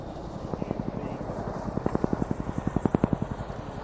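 An RAF Chinook twin-rotor helicopter at an airshow gives a steady rhythmic rotor thud that grows louder and faster toward the end, heard from moderate distance over wind noise.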